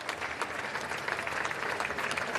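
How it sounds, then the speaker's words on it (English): Outside Downing Street, a crowd applauds as Keir Starmer leaves; a short stretch of faint, steady clapping sounds distant and echoing. "Now applause echoes as he leaves and heads towards Buckingham"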